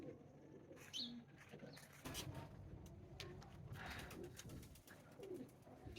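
Pigeons bred as high-flying birds cooing close by, soft repeated coos and calls over a low background hum, with no talking.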